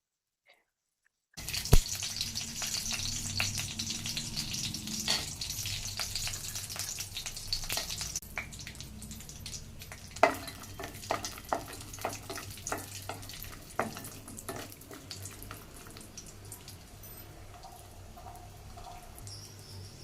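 Cashews and raisins fry in ghee for semiya kesari, a soft continuous sizzle broken by frequent sharp scrapes and taps of a spoon in the pan, starting after a short silence and easing off later.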